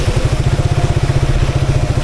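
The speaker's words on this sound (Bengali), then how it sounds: "আমি এখন বাইক চালাই" A motorcycle on a waterlogged road in Bashundhara, Dhaka, gives a loud, close engine note with a fast, even pulsing beat that holds steady throughout, with no speech.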